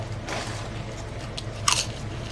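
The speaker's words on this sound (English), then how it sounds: "Are you done chewing?" Someone crunches and chews spicy ghost pepper chips up close, with a steady bite-and-chew texture and a sharp, loud crunch partway through.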